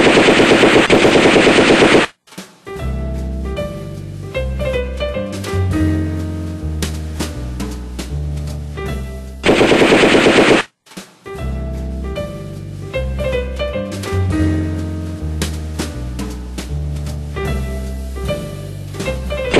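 Rapid, dense shotgun fire rings out loud and close, bursts of shots in quick succession over roughly sixteen seconds, broken by two short harsh static-like blasts, with no voices.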